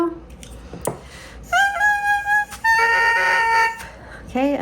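An oboe reed being crowed: several bright, buzzy squawking tones in short bursts, close and loud, with brief pauses between them and a voice speaking faintly in the gaps.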